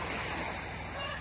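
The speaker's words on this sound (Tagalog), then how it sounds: "Ang linaw ng dagat guys. Ang tahimik at ang kalma ng alon." Calm sea waves washing on an island shore, a steady broadband wash of surf with some wind noise, continuous and moderately loud.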